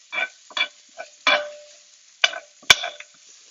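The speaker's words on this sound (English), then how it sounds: "I'm just gonna poke the leeks around here so that they cook at the same rate" Leeks and cauliflower pushed around a Rock non-stick frying pan with a utensil, giving several short scraping, rustling bursts spaced unevenly, with a sharper clack near the end and a faint hiss between them.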